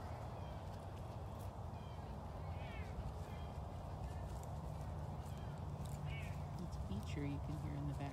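A caracal at a big cat sanctuary gives faint, brief meow-like chirps in the background, almost lost under steady outdoor noise, while a person talks nearby.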